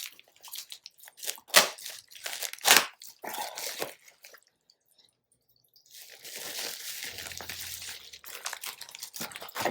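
Close, loud crinkling and tearing of a plastic package wrapper in sharp bursts, a pause of near silence midway, then softer continuous rustling as the wrapping is worked off.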